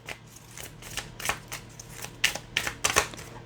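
Tarot cards shuffled and drawn for a reading, giving a series of soft, quick papery riffles and flicks that grow a little louder toward the end, close by with no voices.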